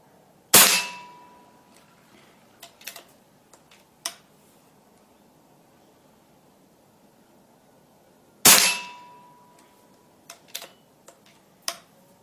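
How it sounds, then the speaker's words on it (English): A PCP repeater air rifle fires two sharp, loud shots about eight seconds apart, each with a short decaying ring, followed by a few faint mechanical clicks and ticks from cycling the magazine. "It's a repeater, so we're going to shoot it with the mags and see how it performs."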